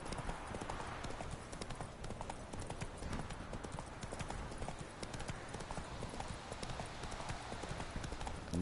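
Horse hooves clip-clop at a steady walking rhythm in Witcher 3, quiet and continuous, with a voice talking faintly over them.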